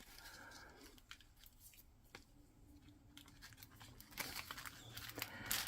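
Scissors snip and rustle through a piece of string on a craft bag, a few short close cuts and handling crinkles, with no speech over them.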